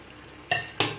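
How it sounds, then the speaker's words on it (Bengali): Coriander, cumin and turmeric powders being sautéed with vegetables in a pan on a home stove, two quick scraping stirs of a spatula over a faint background sizzle, close and fairly quiet. "দিয়ে সব কিছুকে আবারও ভালো করে কষিয়ে নেব।"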